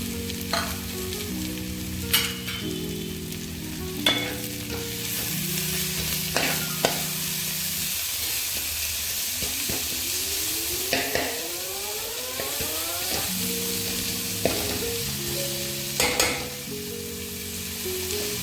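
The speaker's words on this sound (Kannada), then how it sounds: "ಫ್ರೈ ಆಗ್ತಾ ಇದೆ ಚೆನ್ನಾಗಿ." Lemon chicken fries in a pan with a steady, close sizzle and occasional stirring clatter, while tuneful background music plays throughout.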